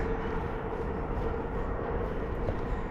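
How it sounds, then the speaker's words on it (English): A train rumbles steadily past near a wild camp outside Canterbury, a continuous loud roar of rolling wheels with a faint tonal hum and no break, mixed with distant road traffic. "I think I should sleep alright, despite the train and the road traffic noise."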